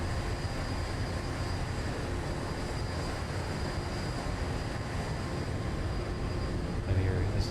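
An airplane at maximum takeoff power in the X-Plane 11 flight simulator at Santa Monica airport, a steady, loud engine roar with a constant high whine, swelling slightly near the end.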